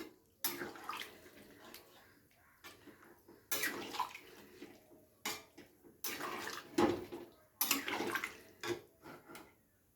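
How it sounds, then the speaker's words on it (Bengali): Water poured into a pan of cauliflower, flat bean and potato curry in several separate close gushes, each splashing for a second or two with quiet pauses between. "একটু ঝোলঝোল হবে তো সেই কারণে জলের পরিমাণটা একটু বেশি দিলাম"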